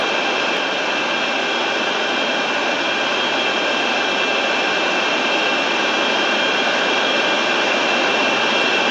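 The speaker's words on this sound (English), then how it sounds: "I'll line up for the tarmac and take off from the runway after this" A jet airliner's engines roar at takeoff power in a flight simulator game, a loud, steady, unbroken whine and rush that holds throughout with no talking.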